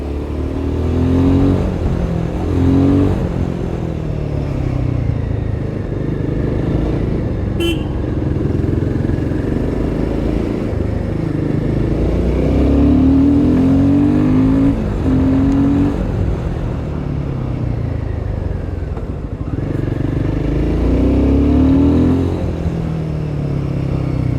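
A 2023 Royal Enfield Himalayan 450 motorcycle being ridden, its engine droning loud and close as it accelerates with rising and falling revs under steady wind noise.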